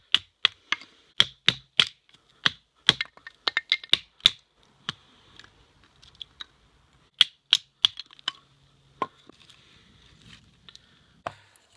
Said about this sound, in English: Take another smaller piece and cut it up into about matchstick size.